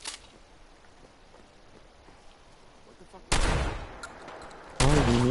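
Two loud gunshot blasts from the video game Fallout 4 ring out after a quiet stretch of low ambience, each one abrupt and booming with a ringing tail.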